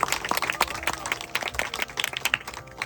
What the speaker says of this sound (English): let's all give a huge round of applause to Sita Auntie.